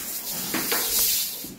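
Paint sprays onto an interior wall in a living room, a few soft hissing bursts of spray over a faint background hiss, no talking.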